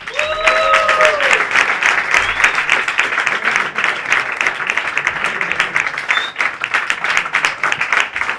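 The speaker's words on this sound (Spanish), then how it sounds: "Un aplauso muy fuerte para Urko Vázquez." Loud audience applause fills the hall for a talk, dense steady clapping and crowd noise from start to finish, with a few brief whistles or tones early on.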